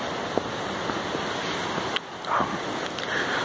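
A creek roars steadily down a ravine in a snowy forest during a snowstorm, a constant broad rushing wash with a few faint knocks and rustles close by.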